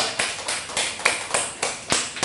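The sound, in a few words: congregation applauding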